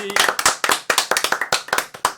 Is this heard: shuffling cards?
no